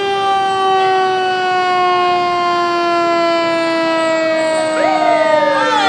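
A fire department ladder truck's siren wails loudly and steadily at close range, holding one pitch before sliding into a rising sweep near the end, with no voices over it.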